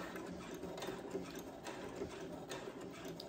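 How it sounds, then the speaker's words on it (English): A Brother sewing machine re-stitches over an existing seam with a continuous, quiet mechanical whir and steady needle rhythm. "just try to re-sew over what you already sewed when you done the 1/4, and then back stitch right here"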